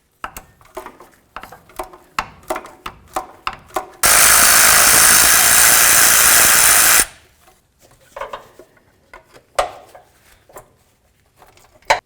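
Metallic clicks and clanks of a wrench removing a starter mounting bolt on a 4WD Toyota Tundra, then a loud three-second burst of a power tool, followed by more scattered tool clatter.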